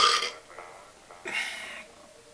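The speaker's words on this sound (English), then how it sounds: "Seems like only energy drinks make me burp like that." A man burps loudly and close after drinking a Monster energy drink, giving two drawn-out belches separated by a short pause, with nothing else heard.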